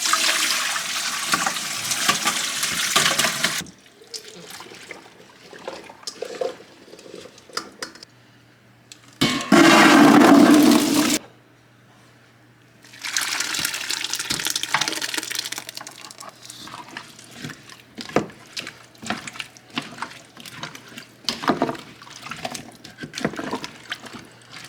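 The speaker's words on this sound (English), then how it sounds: "I'm going to drain them and get them into this pot." Water from a potato-soaking bath drains out as soaked potatoes are tipped into a pot while canning potatoes, a loud rushing pour in bursts with quieter trickling and handling noises between.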